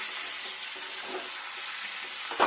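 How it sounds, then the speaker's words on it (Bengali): A vegetarian new-potato curry with tomato and spices sautéing in a pan gives a steady, soft sizzle and crackle, ending with a brief scrape of a spoon against the pan. "এবার কষাতে হবে, টমেটোটা গলবে"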